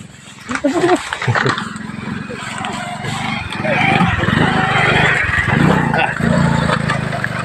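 A motorcycle engine drones loudly close by, rising and holding as it goes past on a rural road in Masbate, with people talking over it.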